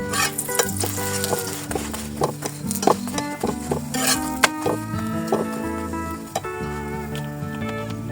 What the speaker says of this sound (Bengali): এখানে একটু পরোটা বেজে দিচ্ছি